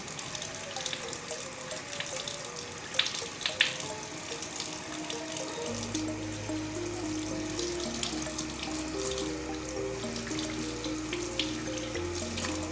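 Tap water runs steadily into a sink while makeup brushes are rinsed, a close, soft continuous splashing with a faint humming tone joining partway through.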